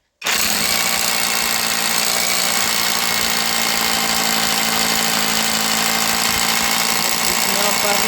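Grasser GRH 226 cordless hammer drill with an 8 amp battery starting abruptly and drilling a hole, a loud, steady rattling hammer roar that runs without a break.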